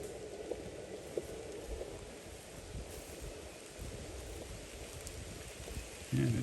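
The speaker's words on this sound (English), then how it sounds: "And it's raining." Rain falls steadily during an outdoor cattle drive, a soft continuous patter and hiss heard from close range, with a few louder drops and faint bumps, and no clear voices.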